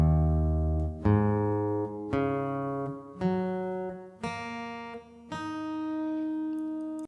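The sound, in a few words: acoustic guitar strings tuned half a step down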